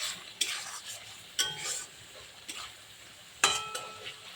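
Pointed gourd cooking in a mustard sauce in a pan: a soft background simmer broken by a few sharp clinks and scrapes of a utensil against the vessel, close and fairly quiet.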